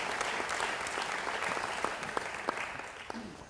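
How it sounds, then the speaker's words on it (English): Audience applause for award nominees at the 2023 Tip Colley Awards, a steady, moderately distant patter of many hands with a few sharper individual claps standing out, no voices over it. "a round of applause for all of our nominees for the 2023 Tip Colley Awards."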